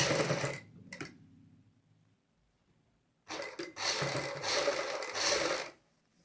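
Sewing machine stitching a kurti collar, running in two close mechanical bursts of rapid whirring with a pause of near quiet between them.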